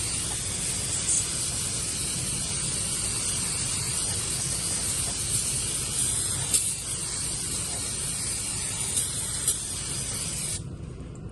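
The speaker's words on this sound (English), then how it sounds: "grab some brake parts cleaner here and" Brake parts cleaner sprays in a long continuous hiss while hosing down parts on a Yanmar tractor, steady and close, cutting off abruptly near the end.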